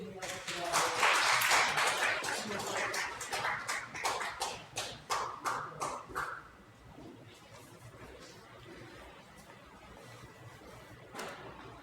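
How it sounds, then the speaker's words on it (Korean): A church congregation breaks into loud applause after a prayer, a dense burst of clapping that settles into rhythmic claps in time and then fades out, leaving quiet room tone. "박수 한번 크게 주님하십시다."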